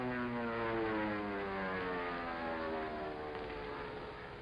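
A small propeller plane flies low overhead with a steady droning engine whose pitch slowly falls as it passes, moderately loud and continuous.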